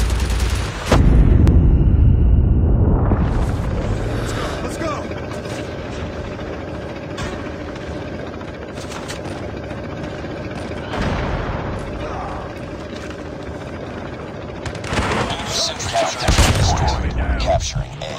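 Missile and airstrike explosions in a video game: a heavy blast opens, followed by rumbling booms and bursts of gunfire. Game voice callouts sound over the battle noise.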